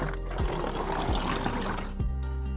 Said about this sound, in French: l'eau que je vais mettre dedans, ça va rincer